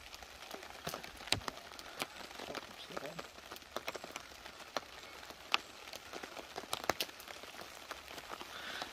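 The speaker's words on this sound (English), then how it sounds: "We're going to get back under because it's raining." Rain falling at a campsite, scattered drops pattering on tent fabric and gear in irregular sharp taps over a soft, quiet wash of background noise.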